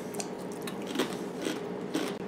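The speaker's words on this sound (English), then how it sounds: "with that crunch of that Cover Bridge chip" Sour cream and onion Covered Bridge potato chips, made from dark russet potatoes with the skins on, are bitten and crunched close up in several loud crisp bites spaced about half a second apart, with no talking.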